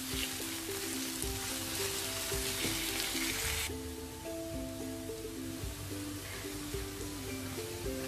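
Chopped onions frying in oil toward brown for a rajma curry, a dense continuous sizzle that drops to a quieter, steadier hiss partway through.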